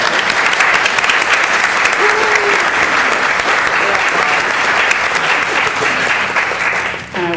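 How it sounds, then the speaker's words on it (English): Audience applause fills a city council meeting in Asheville, a steady dense clatter of many hands lasting several seconds before tapering at the end, with faint murmurs beneath. "that's applause"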